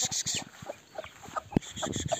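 Young Aseel chicks chirp and peep, calling for their mother hen in a coop. The calls come as short, faint, scattered cheeps with a few louder clucks and background noise.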